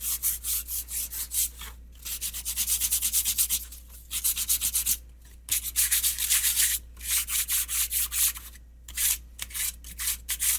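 Rhythmic back-and-forth sanding strokes on a wooden edge in a carpentry shop, steady and close, with a few brief pauses between bursts.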